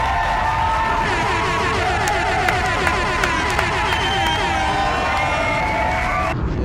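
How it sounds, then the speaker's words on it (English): An audience cheering and shouting for Dave Chappelle, a loud, sustained crowd roar with whoops and hollers filling the whole stretch before it cuts off abruptly. "Round of applause for my nigga Dave"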